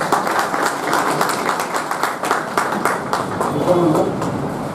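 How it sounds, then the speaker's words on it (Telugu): Crowd applause at a TRS party joining event with Goud community leaders, a steady dense clapping that runs through the whole stretch at moderate loudness with crowd murmur underneath. "అందరూ కూడా క్లాప్ చేయాలి దయచేసి"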